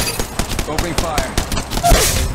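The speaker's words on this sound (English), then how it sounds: "Opening fire." Rapid gunfire in the mobile battle royale game Apex Legends Mobile crackles in quick bursts, mixed with clicks and other game effects, while a voice speaks over it.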